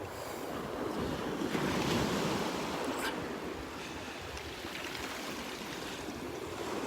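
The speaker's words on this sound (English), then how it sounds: "It's all up to the waves, too." Ocean surf washing steadily onto a Gulf beach at Delnor-Wiggins, a continuous broad roar of breaking waves with light wind buffeting the microphone, loud and close throughout.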